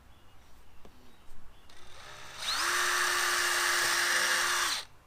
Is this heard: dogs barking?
no